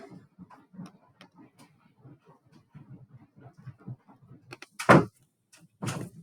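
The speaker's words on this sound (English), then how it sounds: "we just close the door." A classroom door shuts with a loud thud, followed by a second sharp bang, after a stretch of quiet, scattered clicks and taps.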